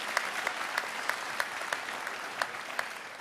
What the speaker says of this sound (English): We welcome the applause to acknowledge the graduates and show how proud you are of them.